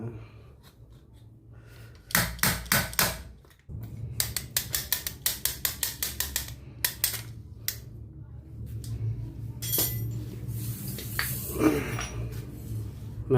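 A Honda Mio starter dynamo bearing being pressed out with a tool: sharp clicking and tapping bursts in quick irregular runs, then a steadier grinding scrape, close and fairly loud over a low hum.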